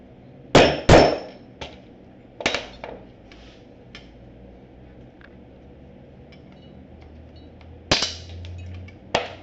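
Sharp metallic hammer strikes setting a rivet ring out in small clusters, a few loud clangs separated by quiet pauses, close by and with no talking.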